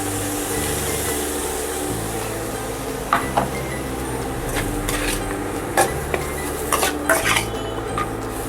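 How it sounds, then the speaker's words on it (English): Green chilies and curry leaves going into a pan, with clattering of utensils and metal scraping against cookware over a steady background hum. "Next add green chilies and curry leaves"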